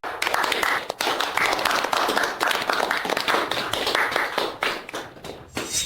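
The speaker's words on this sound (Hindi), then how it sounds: "जल्दी तालियां बजाओ" A crowd clapping continuously, dense and sustained, with the applause thinning and becoming more scattered toward the end.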